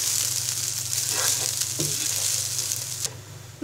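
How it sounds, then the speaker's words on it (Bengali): Boiled basmati rice being stirred and mixed in a hot pan, with a steady loud sizzle and frying hiss throughout and scraping stir strokes on top, alone with no talk. "এবার ভাতটাকে আমি সব কিছুর সাথে একসাথে মিশিয়ে নিব।"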